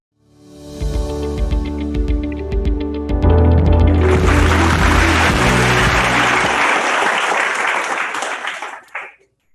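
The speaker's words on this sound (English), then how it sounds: "with a big round of applause" A big round of applause at a leadership conference swells up and fills the room as a speaker is welcomed to the podium, continuing steadily for several seconds before fading out, with tonal music-like sounds at the start.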